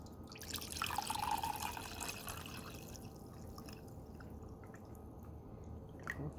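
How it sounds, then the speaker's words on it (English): Water from a tap fills a cup for mixing a raspberry lemonade electrolyte hydration powder, a steady close pour with a bright trickle that fades as the flow eases, then a faint knock at the end. "fill up some water."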